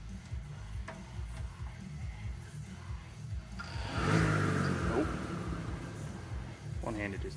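An electric zero-turn mower, home-built, spins its blades up from rest, a rising whir and roar swelling about halfway through and holding steady at close range, with a low motor hum underneath throughout.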